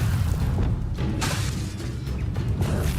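A Bombarda blasting spell detonates during combat in the Hogwarts Legacy video game: a heavy, continuous low boom with a sharp bright burst and scattered thuds and whooshes layered over a rumbling bed.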